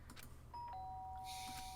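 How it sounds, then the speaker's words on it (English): A doorbell rings once in Danganronpa, a short bright chime that rises to a clean sustained tone, heard alone over a faint low hum. "The sharp sound of a doorbell pierced my sleepy haze, and pulled me back to the real world."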